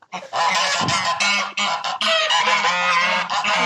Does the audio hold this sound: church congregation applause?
no